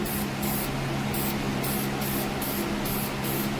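A rattle can sprays paint onto a Datsun 280Z car bumper for a second coat of colour, a steady close hiss broken by short pulsing bursts, running alone without talk.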